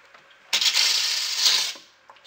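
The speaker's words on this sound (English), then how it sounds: "After you've loosened the housing, you no longer need the wrench. You can just spin it off with your hand." Water filter housing spun off by hand, a single rough rubbing, grinding turn of plastic threads lasting about a second and a half, close and fairly loud, with faint handling noises around it.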